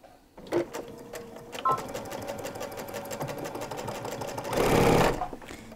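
A domestic sewing machine runs a straight stitch seam on fabric, steady rapid mechanical chatter close up, with brief starts and stops early on and a louder, busier stretch near the end.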